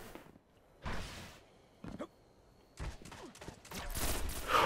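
Gunfire and a grenade blast ring out in a Destiny skirmish match, with several short sharp bursts spaced apart and a longer rumbling burst at the end, moderately loud.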